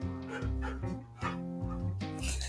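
Pet dogs close by in a home make whiny, huffing breath sounds, several short pulses in a row at moderate loudness with no talking.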